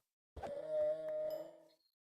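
Minecraft donkeys being hurt, a single harsh braying cry with a strong tonal pitch lasting over a second, clear and alone.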